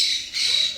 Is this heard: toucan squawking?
yes